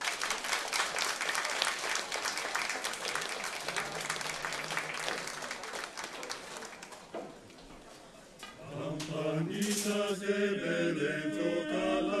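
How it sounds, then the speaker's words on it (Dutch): Clapping from a concert audience for a singer and a choir, a dense sustained roar of applause that fades after several seconds as music starts. "Ik wil voor u een luid applaus"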